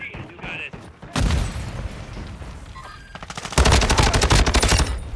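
In a Call of Duty Modern Warfare II match, a sharp blast hits, followed by a loud burst of rapid automatic gunfire, with voices talking in between.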